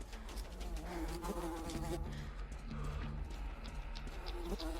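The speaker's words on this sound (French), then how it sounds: "Oh, les mouches." Swarming flies hum and whine around the player in Metro Exodus, a close, continuous insect drone with wavering pitch over low game ambience and a few soft thuds.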